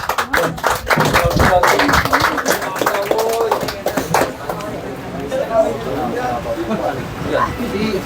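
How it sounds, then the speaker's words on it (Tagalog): A group claps loudly and rapidly for several seconds, then the clapping fades into chatter and voices talking over a noisy room. "Palakpak."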